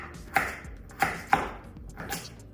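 A knife cuts sweet potatoes on a board, giving three sharp, evenly spaced chops, then a softer fourth after a pause, each a crisp thud close by with nothing else audible.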